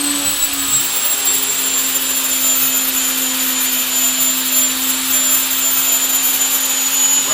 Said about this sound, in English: I'm just gonna go in there and grind it, and I'm just gonna let it hit the backside a little bit more